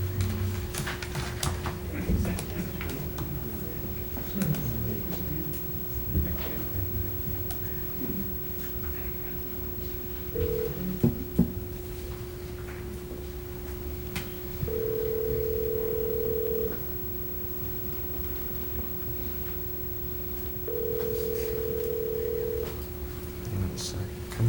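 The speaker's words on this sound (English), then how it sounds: "Let me call one more time." A steady telephone dial tone runs throughout during a call placed at a city council meeting, with short higher tone bursts from dialing partway through, over faint background room noise.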